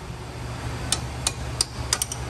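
Sharp metallic taps ring out at an uneven pace, about six of them in two seconds, from hammering on worn brake parts of a 1998 Ford Expedition in a garage over a steady low hum.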